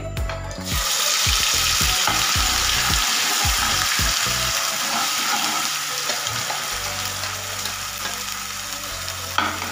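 Ground masala paste for dhaba-style paneer masala hits a hot pan with a loud, steady sizzle right away. Close scraping stirs sound under the frying, which softens slightly toward the end.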